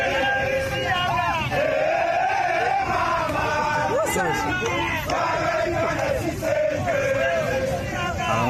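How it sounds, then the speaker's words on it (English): A large crowd of students in Uganda shouts and cheers in a dense, continuous roar. Overlapping voices rise into whoops and chants, loud and close throughout. "Looks like a large crowd of students."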